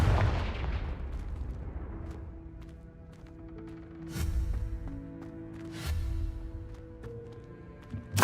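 Confringo blasting curse exploding in Hogwarts Legacy: a heavy blast opens, then two more sharp booms land a couple of seconds apart, each with a rolling tail, over sustained musical tones.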